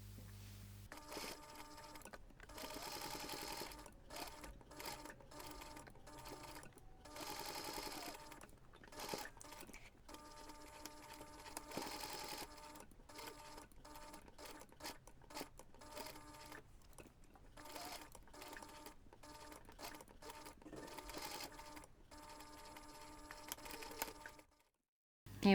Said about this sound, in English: what you need to do is to top stitch around all sides, about 2 millimeters from the edge